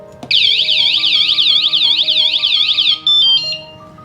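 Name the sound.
bicycle anti-theft alarm warning sound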